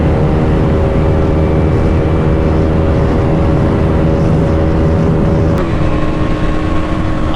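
A Pulsar NS200, N250 and Duke 200 race side by side in a drag run, one engine droning loud and steady at high revs with constant wind rush, a brief gear-change dip near the end.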